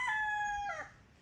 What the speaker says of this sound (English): sorry about my roosters